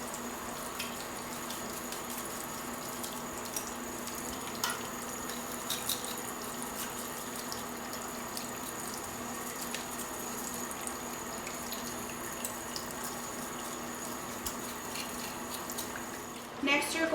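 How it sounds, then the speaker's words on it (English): A tap runs steadily while eyelash extension tools are washed with water and soap at a sink, a constant close hiss of flowing water with small splashes that swells briefly at the end. "the first step of washing your implements is going to be washing them with water and soap"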